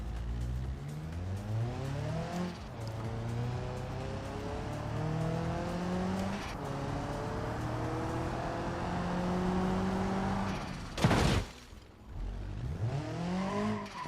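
An RM-class race car in BeamNG revs hard with rising and falling engine harmonics as the wheels spin under clutch work, the engine loud and close, with a brief sharp burst near the end.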